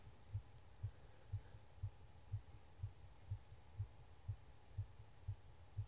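A video-game heartbeat from Everlasting Summer thumps in a slow, regular rhythm, about twelve soft low beats over a faint steady hum, with no voices.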